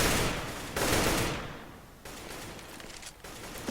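Rapid bursts of automatic gunfire in a Counter-Strike round, loud and dense in long sustained stretches broken by brief pauses, with no voices over it.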